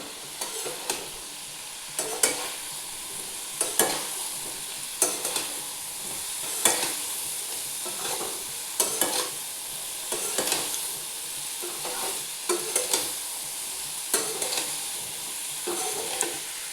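Papaya, chickpeas and potato cooking down in a pan as a curry, with a steady sizzle under regular scraping strokes of a spoon about every second or so, close and fairly loud, no talk.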